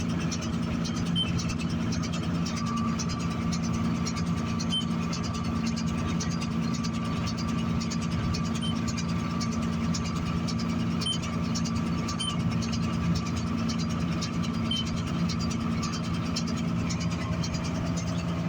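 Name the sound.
Vermeer 605K hay baler running behind a 4240 tractor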